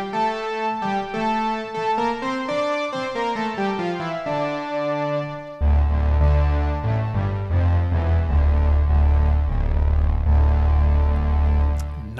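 Fat Monster patch on the Tricent software synth, an emulation of the Korg Trident, playing a sustained chordal line that thickens halfway through into a loud, beefy low-end texture, with no talking.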